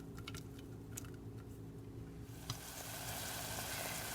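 Onion dropped into a pot of hot oil: after a quiet stretch with a few light clicks, a steady, bright sizzle swells up and holds, fairly soft and close, with no talking.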